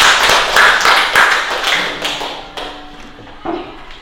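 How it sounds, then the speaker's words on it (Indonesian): Classroom applause from students, several seconds of scattered claps and taps fading out, ending in a few isolated claps. "Tepuk tangan untuk kita semua."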